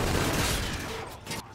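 A short burst of rapid gunfire from an SMG-assault rifle hybrid in a Call of Duty-style shooter, loud and close, trailing off after about a second.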